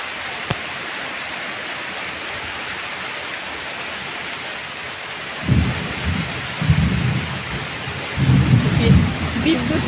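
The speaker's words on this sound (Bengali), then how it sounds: "দেখুন কত বৃষ্টি হচ্ছে" Heavy rain pours steadily onto a rooftop during a nighttime storm, a constant loud hiss, with deep rumbles of thunder rolling in over the last several seconds.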